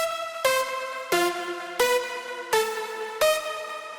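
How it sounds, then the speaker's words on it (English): A smooth progressive house synth lead stack from FL Studio plays a melody of six bright, harmonically rich notes, each struck sharply and then sustained, in an even rhythm. "that lead stack sounds like this"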